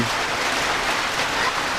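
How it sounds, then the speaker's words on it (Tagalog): Steady rain pours down in a dense, even patter that fills the clip, with no voices. "Kasi nga, umuulan."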